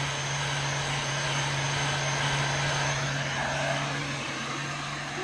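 Heat gun blowing steadily on heat shrink tubing over a butt connector in motorcycle wiring, a continuous close airy whir with a low fan hum for the whole stretch.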